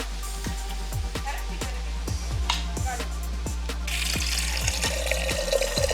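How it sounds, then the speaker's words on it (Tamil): Tap water runs steadily into a sink during outdoor cooking of Korean gochujang noodles in Jaffna, Sri Lanka. The rush swells louder partway through over a regular mechanical ticking in the background. "தண்ணி எடுக்கிறேன்."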